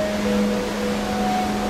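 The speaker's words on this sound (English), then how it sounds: "Water, wind, and waves." Steady wind and ocean waves wash together in an unbroken rush of noise aboard a cruise ship at sea, with a faint low hum underneath and no voices.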